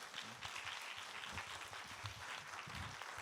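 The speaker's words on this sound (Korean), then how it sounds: "우리 목사님 나오실 때 큰 박수로 한번 환영하겠습니다." A church congregation at a Friday revival service applauds to welcome the pastor to the pulpit, producing steady, moderate clapping that fills the room with low murmuring underneath throughout.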